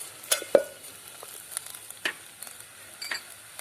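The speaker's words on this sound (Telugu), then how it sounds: "వంకాయ ముక్కలు మాడి పట్టకుండా మధ్య మధ్యలో ఇలా కలుపుకుంటూ ఉండాలి వంకాయ ముక్కలు వేగే వరకు" Brinjal pieces frying in a village-style tomato curry get stirred now and then: a few sharp spoon scrapes and clicks against the pan over a faint, quiet background.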